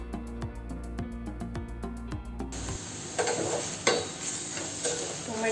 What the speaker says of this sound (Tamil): டொமேட்டோ நல்லா சாஃப்டாகிற வரைக்கும் வதக்கிக்கோங்க